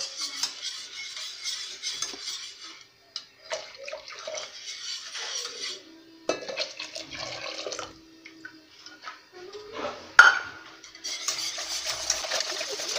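A spoon stirring a warm milk and powdered-milk mixture for homemade yogurt, with intermittent clinks and scrapes against the container, light liquid sloshing, and brief pauses between bursts.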